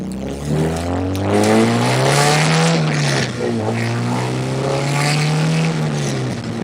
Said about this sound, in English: Because this car gets loud.